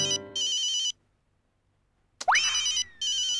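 A telephone rings in short repeated electronic bursts, with a pause and a quick upward boing-like chirp before the ringing resumes, clear and fairly close.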